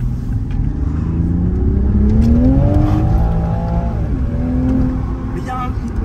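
Toyota Supra engine revving loud and close as the car accelerates, pitch climbing then dropping at a gear change before pulling again, with talk over the engine.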